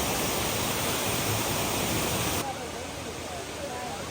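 Waterfall at Watkins Glen State Park in New York's Finger Lakes, a steady broadband roar of falling water that drops noticeably in level partway through, as if the listener moves away or behind cover.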